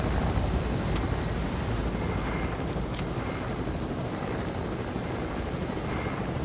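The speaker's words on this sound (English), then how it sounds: "Helicopter's almost gone though." Helicopter in the Fortnite video game, a steady rotor drone running continuously at moderate level through the whole stretch, with no talk over it.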